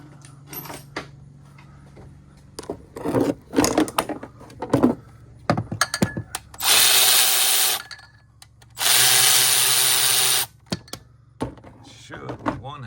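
A power tool removes bolts from the alternator on a Ford Crown Victoria 4.6, with two sustained whirring bursts of a few seconds each after a stretch of clinking and handling, and someone talking between them.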